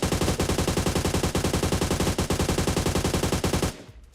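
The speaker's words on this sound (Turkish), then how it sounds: "50 metreye sıkalım bir de bakalım." AUG A3 rifle fired at a 50-meter target in a video game: one long, loud, rapid-fire burst of evenly spaced gunshots lasting several seconds, then a sudden stop and a brief tail.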